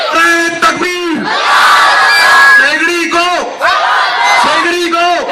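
A large political rally crowd chants back in loud unison after a Takbir call, two long roaring group shouts with voiced cries rising between them, close and dense throughout.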